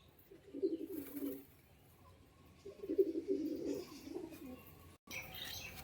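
Madras pigeons in a pen give two low, moderately loud cooing bursts, each about a second long, against faint background noise, with a brief bright rustle near the end.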